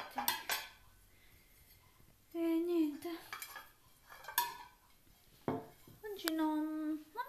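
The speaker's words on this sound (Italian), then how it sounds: "Adesso ci tocca apparecchiare." Dishes and cutlery clink and clatter as a table is set at home in the evening, with scattered metallic taps and scrapes close by, interleaved with bursts of a person talking.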